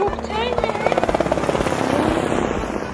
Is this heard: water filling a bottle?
no